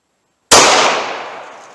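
Single loud gunshot from a snub-nose revolver firing an 85-grain jacketed hollow point .32 H&R Magnum round, a sharp crack after half a second of silence that decays into a long ringing tail.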